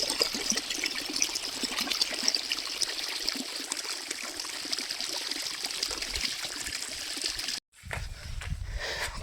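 Irrigation water flows steadily through a farm field, a continuous trickling, gushing stream that cuts off briefly near the end and then resumes, with no voices.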